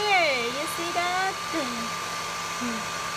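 A hair dryer blows steadily while a cat is being dried, its even whir running under a person's close talk throughout.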